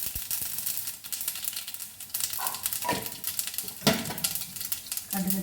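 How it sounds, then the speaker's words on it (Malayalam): A teaspoon of mustard seeds sizzles and crackles in hot coconut oil in a pan, a steady close frying hiss with scattered sharper pops and a few metallic stirring clinks, no talking. "1 ടീസ്പൂൺ കടുകിട്ടു."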